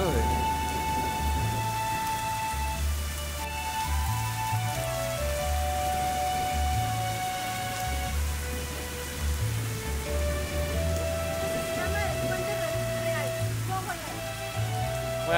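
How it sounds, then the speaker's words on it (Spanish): Heavy rainstorm pours steadily near the Louvre in Paris, a dense close hiss of rain with rumbling thunder underneath throughout. "Si quieres venir al Louvre sin gente, con tormenta."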